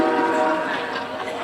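A brief train horn sounds as a train departs, steady harmonic blare held for a moment, moderately loud amid a crowd murmur.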